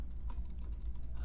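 Typing on a computer keyboard, a quick close run of light key clicks at an even pace.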